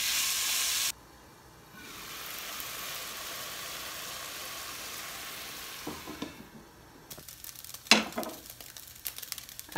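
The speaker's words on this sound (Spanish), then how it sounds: "Ya tengo aquí yo mi carne en la ollita para empezarla a freír." Beef sizzling as it fries in a small pot, a steady soft hiss and crackle, fairly quiet and close, with a few louder clinks and stirring knocks near the end.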